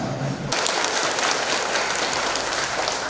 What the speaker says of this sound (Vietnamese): Vì thế chúng ta chúc mừng hai chị một tràng pháo tay